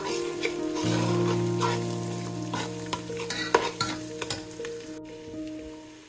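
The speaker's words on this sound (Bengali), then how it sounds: "মশলা ভাজা হয়ে গেছে, আর বিরিয়ানির মশলাও দিয়ে দিছি।" A ladle stirs spices frying in a pot for chicken biryani, with ginger, garlic and onion. Scrapes and clinks repeat over a steady sizzle, close and moderately loud, and there is no talk.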